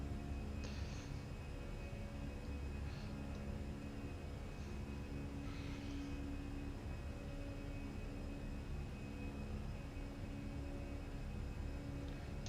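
Airliner climbing out after take-off in Microsoft Flight Simulator 2020, a faint, steady broadband engine roar and hum that holds level throughout, with a few soft clicks and no talking.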